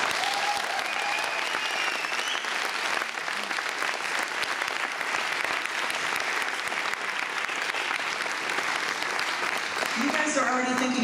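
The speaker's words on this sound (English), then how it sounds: "I think we need another round of applause for Harald." An audience claps together at an a-ha fan convention in Oslo, a dense, loud, continuous round of applause that holds steady and then thins slightly at the end.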